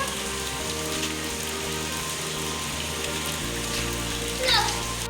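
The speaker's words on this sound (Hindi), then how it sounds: "बारिश आ रही है सारी मेरे फ़ोन के ऊपर।" Steady rain falling outdoors onto a phone, a close, even hiss and patter with low background noise and faint voices of children in the distance.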